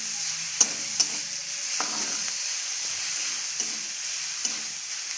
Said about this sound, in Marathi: थोडा मऊ होईस्तर आपल्याला हा कांदा परतून घ्यायचा आहे।